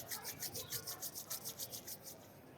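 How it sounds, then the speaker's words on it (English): Two palms rub briskly together, a soft rhythmic swishing friction in steady back-and-forth strokes, close and faint, with no talking. "Now again rub your both palms."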